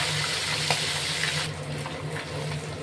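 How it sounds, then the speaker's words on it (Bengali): Fish oil frying in a wok for a bhetki fish-bone curry, a steady close sizzle and crackle running throughout with a low hum underneath, slightly quieter in the second half. "এই তেলটা একটু তেলের মধ্যে দিয়ে ভেজে নেবো ভালো করে"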